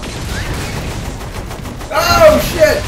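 Rapid gunfire in Saints Row 4, a dense burst of shots running under a voice, then a louder stretch of game noise near the end.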